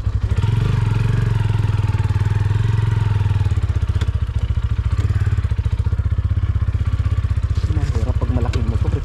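A Honda PCX scooter engine idles and runs close by with a steady low pulsing putter, its rhythm loosening slightly as it moves, while people talk nearby.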